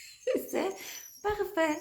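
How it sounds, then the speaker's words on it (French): A dog whimpers in short, thin, high whines close by, mixed with a brief spoken phrase. "Il y a le chien qui gémit"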